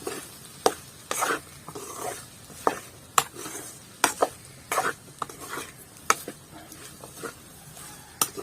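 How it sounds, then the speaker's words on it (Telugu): Wild tubers tossed with chili powder in a pan, stirred in irregular scraping and clinking strokes of a utensil against the metal, close up, over a faint sizzle. "దుంపలన్నిటికీ కారం పెట్టేటట్లుగా కలుపుకోవాలి"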